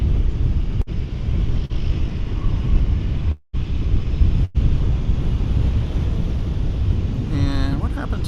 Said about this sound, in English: So there's the Delta flight to Atlanta.